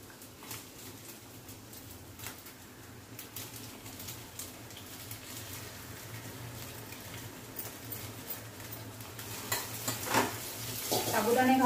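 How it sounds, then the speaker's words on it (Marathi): Sabudana and potatoes stir-fried in ghee and oil over low heat give a soft, continuous sizzle with scattered scraping stirs that grow louder and busier toward the end, and no one speaks. "साबुदाणे घालून सुद्धा हे आपल्याला व्यवस्थित असं परतवून घ्यायचं."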